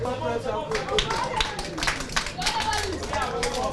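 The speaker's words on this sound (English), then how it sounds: "Let's clap for him." Crowd clapping in a room, a brisk, uneven patter of many hands close by, mixed with overlapping voices and chatter throughout.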